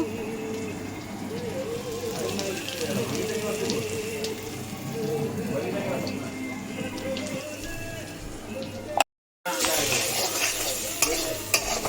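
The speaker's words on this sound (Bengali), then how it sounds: "এবার আবার মশলাটা ভালো করে পেঁয়াজটা ভেজে নিয়ে" Onions frying with spices, turmeric and Kashmiri chili powder, being stirred in a pan: a continuous close sizzle with scraping stirs, a brief cut near the end, then the sizzle resumes.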